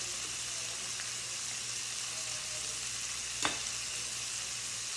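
Shrimp pad thai with vegetables sizzles steadily in a pan, with one sharp clink of the pan or utensil partway through and no voices.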